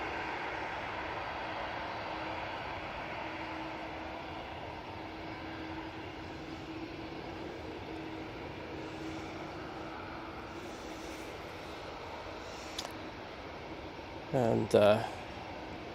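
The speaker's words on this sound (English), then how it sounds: "Virgin Atlantic A350-1000, now about to touch down on 23 right" A Virgin Atlantic Airbus A350-1000 touching down on runway 23 right at Manchester gives a soft, distant, steady jet rumble with a faint tone. A voice briefly speaks near the end.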